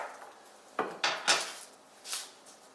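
A sharp knife slicing shallots on a board makes four crisp, separate chops close to the mic, spaced unevenly over a quiet kitchen background.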